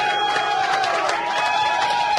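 A studio audience claps and cheers in a steady, dense wash of applause. It is fairly loud and continuous, with voices in the crowd mixed in.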